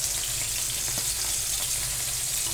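Fish and onions frying together in a pan, giving a steady, close hiss of sizzling oil with no breaks or talking.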